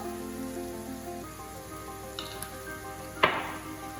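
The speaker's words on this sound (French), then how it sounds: "on fait revenir tous nos morceaux de viande avec les épices" Veal pieces with caramelized onions, salt, pepper and turmeric sizzle softly in a pan, a constant gentle frying hiss with a few light scrapes and one sharper clatter near the end.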